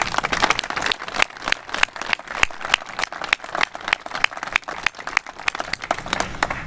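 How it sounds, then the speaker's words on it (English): An audience claps at a military statue dedication ceremony with a steady, moderately loud patter of many hands that continues without pause and has no speech over it. "Please give them a round of applause."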